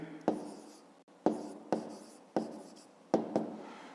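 Pen writing numbers on paper in a fifth-grade maths exercise: five short scratchy strokes in quick separate bursts, close and quiet, with no talk.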